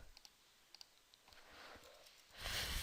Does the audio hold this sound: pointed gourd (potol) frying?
no